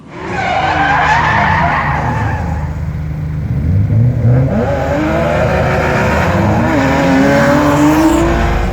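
A loud drift car engine revs and shifts through gears at night at a drift track, pitch rising and falling, with tires squealing and skidding throughout, close and continuous.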